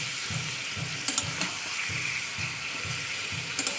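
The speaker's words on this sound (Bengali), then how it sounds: "মাংসটাকে ভালো করে তেলের সঙ্গে ভাজা ভাজা করে নিয়েছি।" Chicken pieces frying in oil in a pan, a quiet, steady sizzle broken by soft, regular scraping strokes as the meat is stirred, with no voices.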